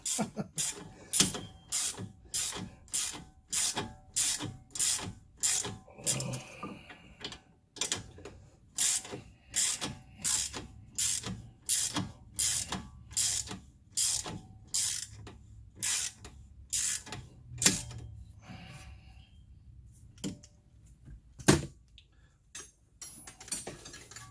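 Ratchet wrench turning bolts on a 2012 Chevy Cruze upper strut mount, sharp clicking ratchet strokes in a steady repeated rhythm, close and crisp, with a few pauses between runs.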